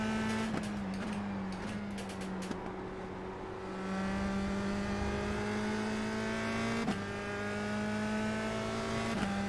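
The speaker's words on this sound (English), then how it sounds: "A couple other cars coming up behind us now as well." Race cars in the iRacing sim game drone steadily with sustained engine harmonics that shift pitch as they accelerate and lift, with occasional sharp gear-change blips and other cars audible nearby; no talking.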